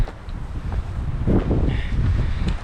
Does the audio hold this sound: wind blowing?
yes